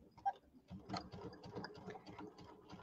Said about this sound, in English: So I'm going to put my pin there so I know that's the top. Then I know which side I'm sewing on.